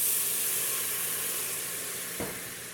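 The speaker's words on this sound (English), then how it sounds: "I'm going to deglaze the bottom of the pan with a little bit of Carnal barrel sample" A splash of barrel-sample liquor hits a hot Instant Pot after a top round roast is browned, giving a loud, steady close hiss and sizzle with a brief scrape near the end.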